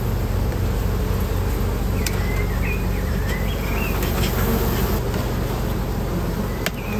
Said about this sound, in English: brush a few bees off the bottom